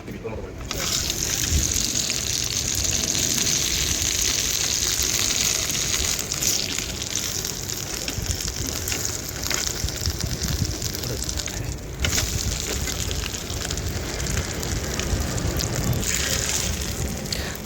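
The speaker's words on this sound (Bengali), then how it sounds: "সব দেখা গেলে আর একটু তেল দিয়ে এটাকে আর একবার ভেজে নেবেন আপনারা" A quesadilla frying in oil in a pan, a steady loud sizzle and hiss that carries on throughout with little change.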